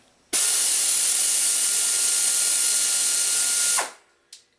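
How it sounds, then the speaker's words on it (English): An SP-7770 3/8-inch air ratchet run at full forward with the regulator wide open gives one loud, steady, close hiss lasting about three seconds, then winds down and stops, followed by a short click. "first we're going to try out the 3/8 inch version. This is going to be in full forward, which is with the regulator turned all the way up"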